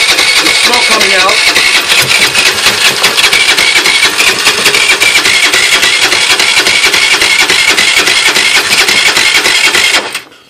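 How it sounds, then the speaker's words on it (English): A Roketa Bahama 50cc moped engine cranks and sputters without catching, a loud, continuous rattling, buzzing mechanical roar close to the microphone for about ten seconds before cutting off abruptly. "That's what happens when I try and start this 50cc moped."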